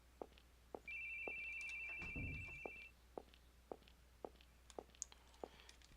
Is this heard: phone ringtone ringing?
yes